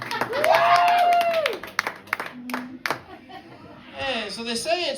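A small open mic comedy crowd in Ypsilanti, Michigan, claps and cheers for a comedian, a patter of hand claps scattered among a host's voice and loudest near the end.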